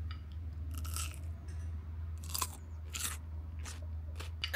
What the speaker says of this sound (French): On va essayer de prendre qu'une bouchée et de pas rater la prise.